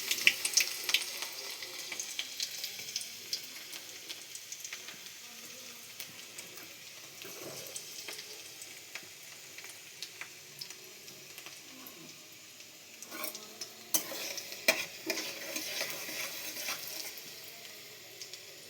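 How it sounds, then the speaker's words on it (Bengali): Chopped garlic and ginger fry in oil in a pan, a steady soft sizzle with scattered crackles and light clinks, a little louder toward the end, with no talk. "প্রথমে রসুন আর আদা কুচি দিয়ে দিলাম"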